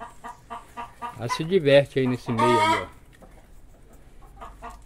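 Chickens around a lemon tree in a yard give a loud burst of clucks and squawks near the middle, with someone talking briefly before and softer clucking trailing after.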